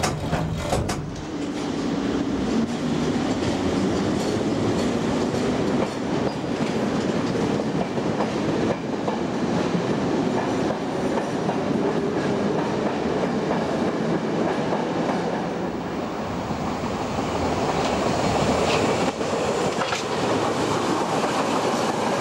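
A Berlin U-Bahn train runs at Wuhletal station, where S-Bahn and U-Bahn trains stop at shared directional platforms; its steady rumble and rhythmic clickety-clack of wheels on track continue loud and close throughout, with no voices.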